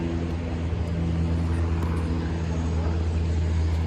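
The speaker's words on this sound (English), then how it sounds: "oh, there's an airplane" Aircraft engine noise at an airport, a steady loud low drone filling the whole stretch with faint voices in the background.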